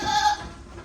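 A goat bleats once, close and fairly loud, in a stall-fed goat-rearing shed in Karnataka, then the sound drops to quiet background.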